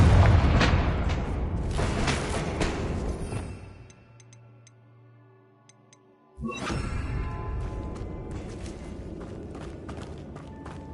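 A Confringo blasting-spell explosion in Hogwarts Legacy booms loudly, fades into a quiet lull with faint ticking game tones, then a second heavy blast erupts and rumbles on, close and full, without speech.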